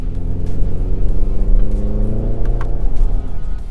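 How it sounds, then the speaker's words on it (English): Hyundai Ioniq 5 N electric car playing its synthesized engine and exhaust note, a steady, loud low drone with rising harmonics like a revving combustion engine, heard from inside the car while driving. "It simulates the noise. It has a nice exhaust note"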